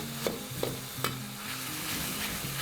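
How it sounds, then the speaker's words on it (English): Salted black beans stirred into pork frying in a wok, a steady close sizzle with a few scraping strokes of the utensil across the pan. "Then I'm gonna add about 1 teaspoon of salted black beans. Give this a stir."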